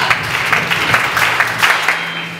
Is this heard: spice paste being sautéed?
no